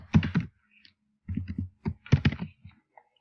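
Computer keys are typed in three short clustered bursts with brief pauses between, entering an email address. Close and fairly crisp, with nothing else heard.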